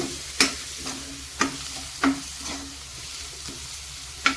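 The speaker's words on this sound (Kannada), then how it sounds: "ಇದೆಲ್ಲ ಹಾಕಿ ಈಗ ನಾನು ಚೆನ್ನಾಗಿ ಮಿಕ್ಸ್ ಮಾಡ್ತೇನೆ" Garam masala and turmeric stirred into a dish frying in a pan, with a soft sizzle underneath and several sharp scrapes of a spoon against the pan at irregular intervals, close and fairly quiet.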